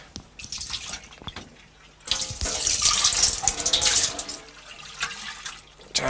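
A kitchen or studio tap runs to fetch clean water for acrylic painting, a steady splashing stream that starts quietly, swells loud from about two seconds on with water filling a container, and carries on with no talk.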